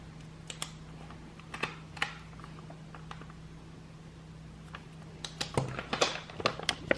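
A marker scratching on a plastic breast milk freezer bag, close up, with several short squeaky strokes in bursts near the start and a denser flurry at the end, over a steady low hum.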